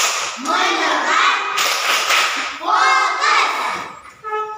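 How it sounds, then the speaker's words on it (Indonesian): Children in an Indonesian classroom clap a focus clap rhythm together, with bursts of close, lively hand claps mixed with their chanting voices. "Tepuk fokus."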